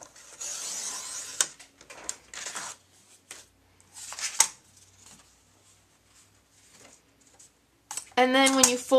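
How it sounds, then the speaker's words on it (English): Cardstock for a handmade Christmas card folded in half, giving close crisp rustles and creasing scrapes in irregular bursts, with a sharper rubbing burst at the end. "And so I'm just folding this in half."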